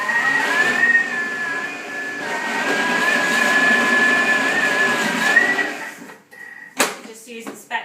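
A food processor whirring through brownie batter at speed 6, its steady high motor whine holding for several seconds before stopping, followed by a few clattering knocks.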